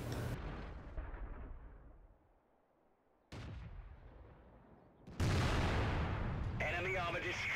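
Heavy in-game shots from an FV304 self-propelled artillery piece in a tank video game, sharp booming blasts with decaying rumble, a quieter gap between reports, then a loud final blast with crackling debris.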